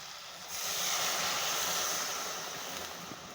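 Water poured over covered fish while cooking, a steady hissing rush that starts abruptly after half a second and continues at an even level, fairly soft and alone.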